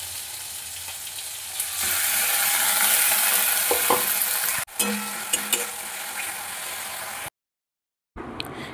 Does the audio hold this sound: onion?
yes